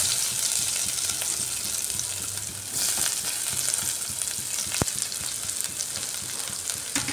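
Crushed ginger and garlic frying in a pan, with a dense, steady close sizzle, light stirring and one sharp clink, and no speech.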